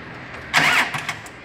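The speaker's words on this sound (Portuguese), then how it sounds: "Pode ligar o carro, Lucas." A car engine cranks and catches in a short burst during a roadside diagnosis of a stuck lambda (oxygen) sensor, with multimeter probes attached; the start is loud and close, then settles into a quieter idle with a few small rises.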